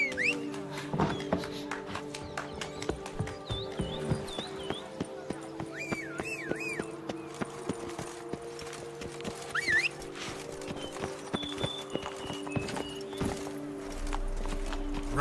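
Roach, the horse in The Witcher 3, runs with steady hoofbeats throughout, mixed with whinnies, bird calls and other game sounds, and no talk.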